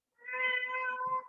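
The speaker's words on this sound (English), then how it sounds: "It's an old cat who doesn't know where he's at and does that sometimes." An old cat gives a single drawn-out meow, close and clear, alone in quiet surroundings.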